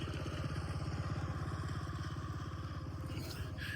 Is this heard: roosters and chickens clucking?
no